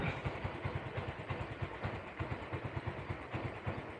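A poorly running motorcycle engine with late throttle response idles steadily nearby, its low rhythmic putter holding an even pace throughout with no voices.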